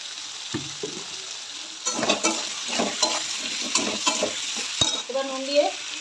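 Potatoes fry in a pan for a paneer, potato and green pea dalna, a steady sizzle running throughout with louder stirring and scraping in the middle and a few brief clinks, no talking.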